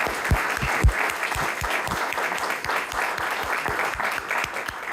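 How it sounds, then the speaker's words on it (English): Applause from a political forum audience for Kansas Senate District 35 candidates, a steady round of many hands with a few louder individual claps standing out near the front, no talking. "Give them a round of applause for continuing to work through."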